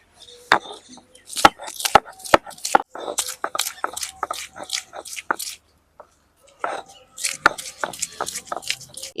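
Ginger, green chilli, onion and garlic are crushed by hand in village-style cooking, producing a run of close, sharp pounding knocks and squishy crunches in irregular bursts with a short pause midway.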